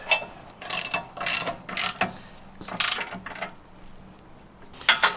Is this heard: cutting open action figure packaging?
no